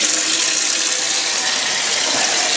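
Hot water gushes steadily from a kitchen tap into a sink, a loud, continuous broadband splashing that stays close and even throughout, with no one talking.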